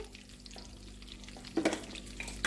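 Cumin seeds hit hot homemade desi ghee in a pan while cooking dal makhani, giving a sudden burst of close sizzling that flares up loudly and then settles into a steady low crackle.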